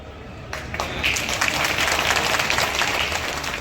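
Dense crowd applause at an outdoor political rally in Sanchi, Madhya Pradesh, swelling after a brief lull and holding as a steady wash of clapping hands.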